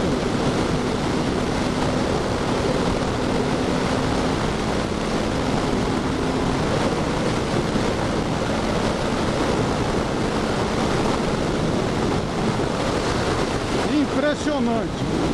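Riding a 2020 Harley-Davidson Fat Bob with its 107 engine, steady loud wind roar buffets the microphone throughout, with the engine's low drone buried beneath and brief speech near the end.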